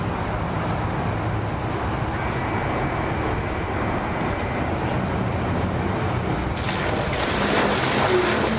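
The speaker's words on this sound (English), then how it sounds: "Man, they're making it back in with that boat" Steady roar of ocean waves and wind with a boat engine droning underneath, continuous and fairly loud, no talking.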